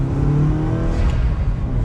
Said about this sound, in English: So one last acceleration, getting back up to some speed